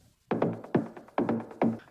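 Background bass layer synth from a stutter house track, four wide, buzzy plucked hits in quick pairs, each with a bright attack that fades fast, moderately loud and alone.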